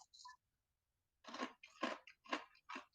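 Crunchy fried plantain tostones being bitten and chewed up close, a short crisp crackle followed by four loud crunching bursts in an uneven rhythm, with silence between them.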